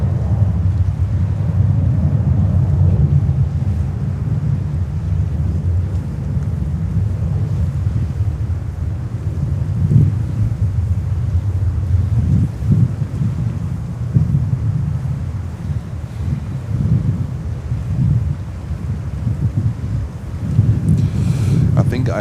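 Wind at JFK airport buffets a microphone with a low, rumbling roar and gusty thumps that swell and fade steadily, with a voice talking faintly beneath it.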